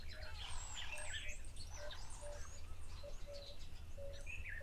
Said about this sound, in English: enjoy the wonderful bird sounds of summer